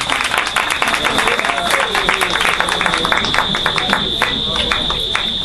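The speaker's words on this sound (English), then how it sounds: "Yeah, you can clap them." Wedding guests applaud at a ceremony, a steady crowd of clapping hands heard loud under a voice talking over it with a sustained tone.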